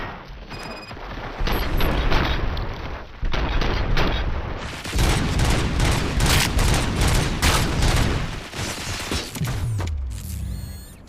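Rapid, dense gunfire from the video game RoboCop: Rogue City, played on extreme difficulty: loud overlapping bursts and mechanical clatter run almost without pause, then thin out near the end.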